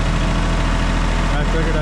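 A Kubota L3560 tractor engine runs at a steady idle close by, a continuous low rumble with no change in pace while it sits ready to haul wood.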